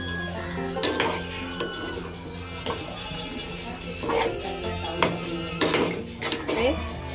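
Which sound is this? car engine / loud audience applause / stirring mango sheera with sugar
stirring mango sheera with sugar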